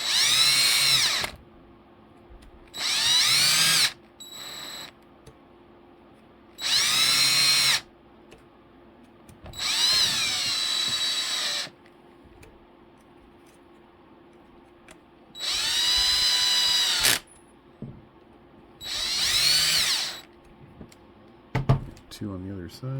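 A cordless power drill drives screws into a Traxxas TRX-4 RC truck with a Chevy Blazer body. Six or seven close, whirring bursts of a second or two each are separated by pauses and light handling clatter.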